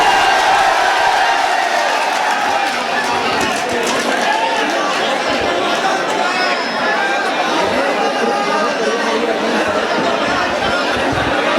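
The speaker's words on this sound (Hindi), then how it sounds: "फिर दोबारा से एक जोरदार ताली से फिर उनका खैर मकदम करो।" Dense crowd noise from a mushaira audience welcoming a poet, steady and loud throughout with chatter, cheers and whoops blending into a continuous roar.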